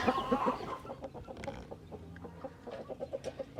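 Hens clucking in a steady, overlapping chorus close by, with short rhythmic clucks repeating throughout and no talking.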